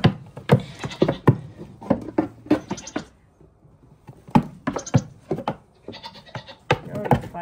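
A homestead goat bleats repeatedly while being milked and struggling, its loud, close, wavering cries coming in quick bursts mixed with scuffling and handling noises.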